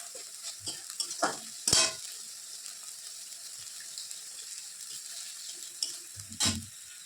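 Ground spices dropped into a pan of fried onions for ghugni, with faint sizzling and sharp bursts of stirring and scraping, two louder clatters standing out, close by and without talk.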